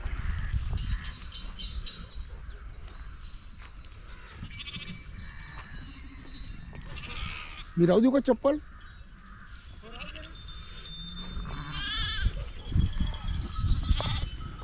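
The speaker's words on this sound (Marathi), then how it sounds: "घ्या मेंढ्याचं दर्शन. मामाच्या मेंढ्याचं दर्शन." Sheep bleat at a Balumama palkhi camp on a cold morning, with a sharp loud cry near the middle and further calls later, while someone talks over the flock throughout.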